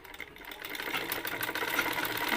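A sewing machine stitching a blouse: a steady, close mechanical whirring hum that keeps running and grows slightly louder, with no voices.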